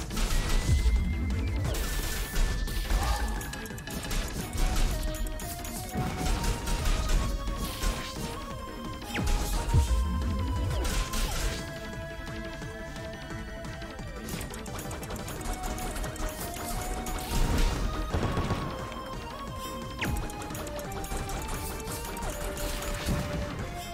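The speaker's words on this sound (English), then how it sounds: "Trying to get him with a horrific explosion." Repeated explosions and crashing combat hits in the video game CrossCode, loud bursts and smashes layered over busy game music throughout.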